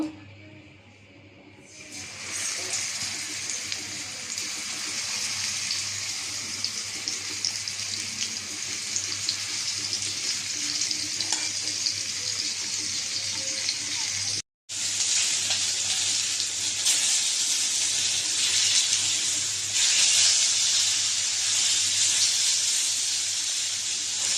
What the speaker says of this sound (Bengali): কড়াইতে তেলটা দিয়ে দিয়েছিলাম গরম হয়ে গেছে মাছটা এখন দিয়ে দিব